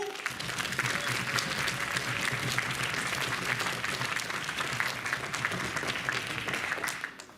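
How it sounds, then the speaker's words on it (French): At a BronyDays fan convention, the crowd applauds a cosplayer dressed as Monsieur Piton with a steady, full round of clapping from a large audience that holds evenly before tapering off at the very end. "vous pouvez applaudir Monsieur Piton"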